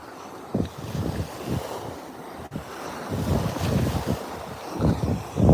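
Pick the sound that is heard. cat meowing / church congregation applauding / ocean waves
ocean waves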